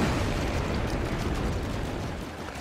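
A plasma launcher round explodes in No Man's Sky, a loud, dense, rumbling blast that starts at full strength and rolls on for a couple of seconds, fading only slightly, with no talk over it.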